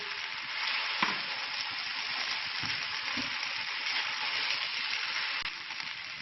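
Steady frying sizzle from a pan of egg and chicken fried rice as fried egg is stirred through it, with a few soft spatula scrapes and taps under the continuous hiss, close and moderately loud.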